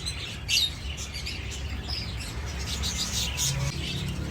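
Lovebird breeder pairs chirp in short, bright bursts over a low background hum, a few calls standing out near the start and middle with no talking.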